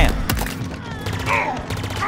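Gunfire from a weapon in Halo Infinite, a sharp shot followed by a rapid volley of firing, loud and close, with a faint voice in the mix.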